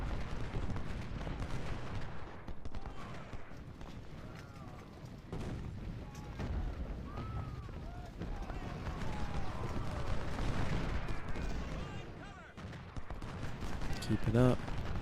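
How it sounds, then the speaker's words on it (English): Artillery fire in the Civil War strategy game Ultimate General: Civil War: repeated booming cannon shots and crackling musket volleys, fairly distant and dense, with a voice speaking over the battle. "Keep shooting the artillery."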